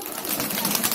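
Pigeons of old breeds coo in a crowded loft in Bhopal, one of five lofts holding several hundred birds; a short, busy burst of close cooing and rustling with no talk.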